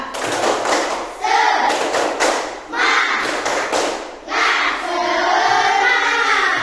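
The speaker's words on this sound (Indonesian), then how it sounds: "Coba tepuk semangatnya." A classroom of students doing a rhythmic spirit-clapping routine, three loud bursts of group claps with chanted voices, followed by a teacher speaking.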